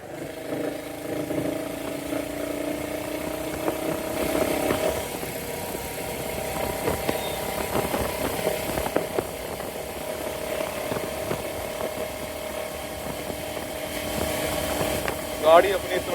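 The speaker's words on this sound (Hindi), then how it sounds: "मैं गाड़ी को ज़रा भगा के देखता हूँ।" A Royal Enfield Hunter 350 motorcycle's single-cylinder engine drones steadily under the rider, with a continuous low hum and some wind noise over a sustained stretch of riding.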